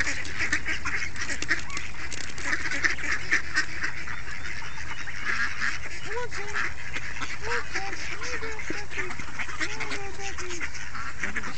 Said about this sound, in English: there's some little adolescent duckies